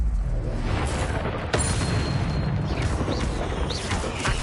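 An Expelliarmus spell is cast in the video game Hogwarts Legacy, a sharp burst followed by crackling, booming magical effects and whooshing tones over a dense game soundtrack.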